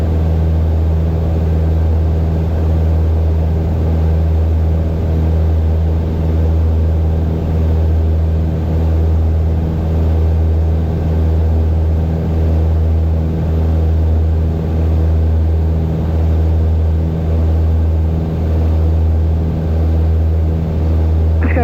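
Steady, droning engine thrum of a Piper Aztec twin-engine aircraft in flight, heard from the cabin: loud, constant low hum with strong tonal bands and a faint pulsing beat, continuous throughout with no talk.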